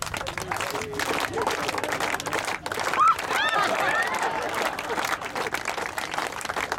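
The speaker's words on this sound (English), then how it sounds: "Everybody clap them on." Crowd cheering and applause at an outdoor lobster bake during a conference gathering, steady and loud throughout with voices shouting and talking over it.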